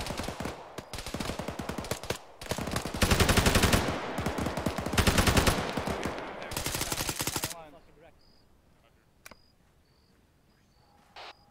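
Sustained automatic gunfire in ArmA 3, long rapid bursts of loud shots for several seconds, then an abrupt stop leaving quiet ambience with a couple of isolated distant pops.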